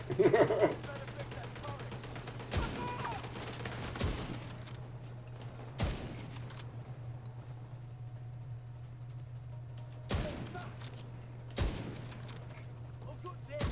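Video game gunfire from The Division 2 during a fight at the Capitol against an enemy repairing a turret: sharp, isolated shots and short bursts every second or two over a steady low hum, with no voices.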